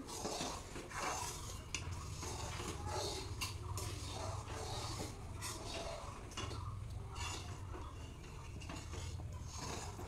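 Dal with salt and turmeric being stirred in a pot, heard as continuous scraping, clinking and rattling over a dense, steady background noise, with no talking.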